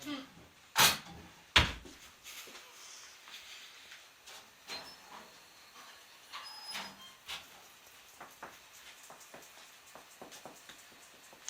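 Two sharp knocks on the bottom of a freshly baked bread loaf, then softer handling and shuffling noises, with people talking.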